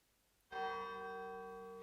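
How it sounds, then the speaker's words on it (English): An alarm bell on a house roof starts ringing after a brief silence. The single bright strike sustains as a steady, moderately quiet metallic ring that slowly fades. "It was the alarm bell on the roof of the house. It was beginning to ring, but it was not ringing loudly."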